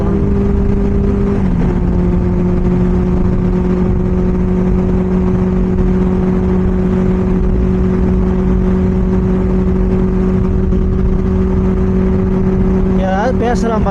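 A Benelli 600i motorcycle's exhaust holds a loud, steady idle throughout, with a slight drop in pitch early on and no sharp revs.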